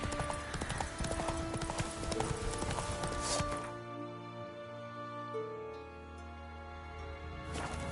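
Horse hooves galloping in The Witcher III video game, a steady drumming of clip-clop beats under a dense game soundscape, continuous and fairly loud before the sound thins out midway.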